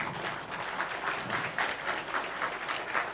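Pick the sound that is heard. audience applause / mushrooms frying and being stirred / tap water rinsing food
audience applause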